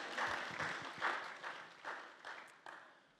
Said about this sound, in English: Can we give a round of applause to our worship team?